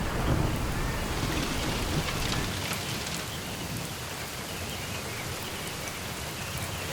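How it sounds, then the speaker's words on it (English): Rain falling over the Eastern Ghats hills, a dense steady hiss of drops with a low rumbling undertone early on, easing slightly after a few seconds and continuing alone. "Even the short-lived rains of the Eastern Ghats recharged the earth."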